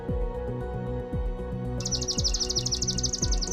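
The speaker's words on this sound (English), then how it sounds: "Let's listen to Merlin's first choice, a swamp sparrow." A swamp sparrow's song plays from a bird identification app: a steady, rapid trill of bright repeated chirps that starts partway through and carries on to the end, loud and close.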